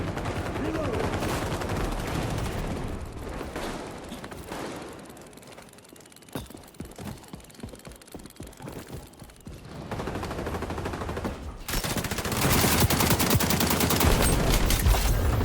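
Rapid gunfire bursts from an AK-47 in the shooter game XDefiant, with dense overlapping shots that drop out briefly mid-clip and then swell louder and more continuous toward the end.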